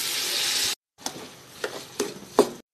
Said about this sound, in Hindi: स्प्रिंग ऑनियंस डाल लें